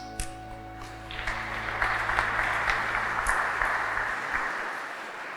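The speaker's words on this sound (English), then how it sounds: "you can give them a little clap as they go" An audience claps at a graduation ceremony as graduates cross the stage to receive their scrolls. The clapping swells from scattered claps into sustained, fairly loud applause from a large crowd in a hall, then starts to fade.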